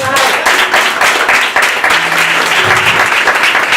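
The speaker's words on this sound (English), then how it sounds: "Let's get an applause for that." Loud, dense audience applause fills a networking mixer in Harlem, steady and close for several seconds, with voices faintly mixed in beneath the clapping.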